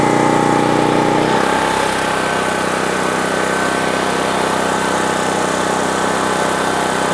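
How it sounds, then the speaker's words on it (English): A generator engine drones loudly and steadily while powering a well pump, its pitch dropping after a brief higher note near the start as it pulls down under load, continuous and close with no talking. "It did not kick the breaker, and the generator pulled down."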